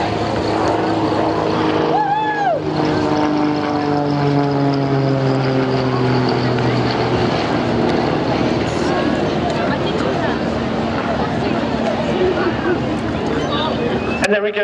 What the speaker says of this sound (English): 2014 Royal Air Force Tutor display pilot, Flight Lieutenant Andy Priest.